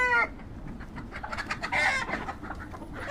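Adler hens on a farm in Norin district, Namangan region, cluck and murmur in a loose, irregular stream of short calls at moderate distance, with no talking.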